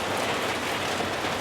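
Steady rain falls in a dense, even hiss that holds at a constant level without breaks.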